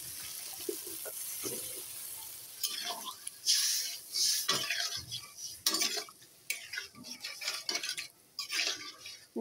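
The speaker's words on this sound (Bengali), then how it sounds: "এখন আমি ঝোল দিয়ে দিব পরিমাপ মতো" Broth poured into a pot of potato curry, splashing liquid and clinks of a metal spoon against the pot, moderately close, with faint background noise and no clear talking.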